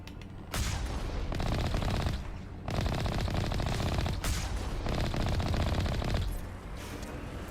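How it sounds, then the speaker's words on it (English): Sustained gunfire in a Mass Effect battle against snipers: long rattling bursts of rapid shots, loud and close, broken by brief pauses between volleys. "Oh, we got snipers."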